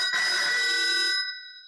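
A telephone rings in a police station with one bright, sustained electronic bell tone that lasts about a second before ringing out and fading into silence.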